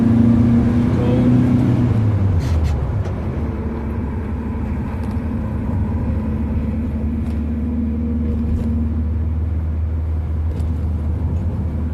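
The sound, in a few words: Ford Zephyr V4 car engine driving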